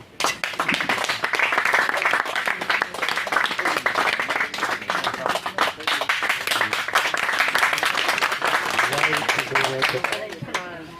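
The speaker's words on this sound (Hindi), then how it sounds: "थोड़ी ज़्यादा ताली बजाई क्या बात है?" Audience at an organic farming training closing ceremony claps as names are called, with sustained, uneven applause rising and falling while a voice speaks over it, fading toward the end.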